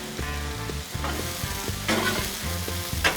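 Onions and bacon sizzle together in a pan, a loud, close, steady fry broken by repeated scraping stirs of a utensil against the pan.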